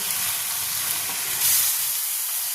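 Tomato paste is stirred into a crab masala frying in oil. It makes a continuous loud sizzle and hiss with a slight rise midway, as if stirred, and no talking.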